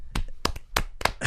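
A handful of people in a studio clap in four or five quick, close bursts of applause, sharp and loud, ending almost at once with no voices.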